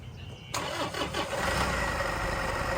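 A Toyota Innova engine cranks and catches about half a second in, then settles into a steady, close idle with a slightly rough running note, after quiet beforehand.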